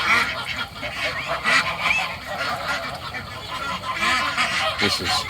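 Ducks quack and call over one another at feeding time in a steady, noisy flock chorus, fairly close, with no pauses.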